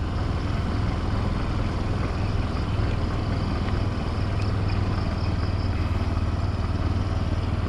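Motorcycle engine running steadily while the bike is ridden through water, a constant loud low rumble with washing, splashing noise and no pauses.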